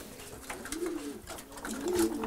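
Racing pigeons coo in a loft, a soft repeated rolling coo rising twice amid rustling and faint background noise, close and fairly quiet, with no speech.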